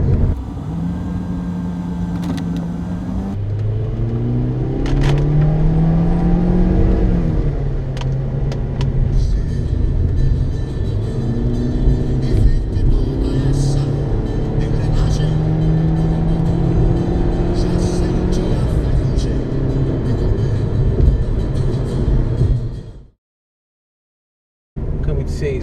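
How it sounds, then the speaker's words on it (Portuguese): The 1.6-litre engine of a JAC T40 with a CVT revs during acceleration from inside the cabin, with a loud steady drone and rising pitch sweeps that flatten out, before cutting to brief silence. "Acelera o motor, mas não acelera o carro."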